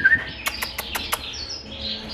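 Four young canary chicks in a breeding aviary give thin, high chirps, a quick run of five short tweets with faint rustling around them.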